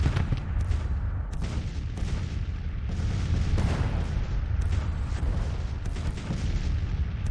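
Artillery fire in Grand Tactician: The Civil War: a steady barrage of distant cannon booms and rumbling gunfire rolls on continuously, with sharper reports breaking through at irregular intervals.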